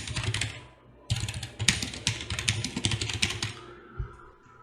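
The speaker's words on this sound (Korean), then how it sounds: "글자를 블럭으로 마우스로 잡아준 다음에 타이핑을 칩니다." Close, brisk typing on a computer keyboard in a burst of irregular, rapid key clicks with a short pause partway through, no voices.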